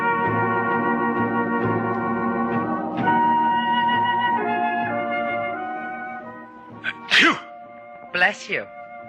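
A man with a cold sneezes twice in a radio drama, two sharp bursts near the end that follow sustained music.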